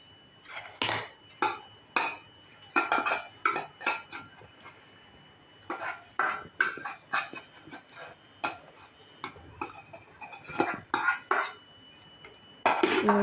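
Cooked pasta is drained through a sieve, heard as a string of sharp metallic clanks and knocks of pot and strainer arriving in irregular bursts, close by, with quiet pauses between them and no talking.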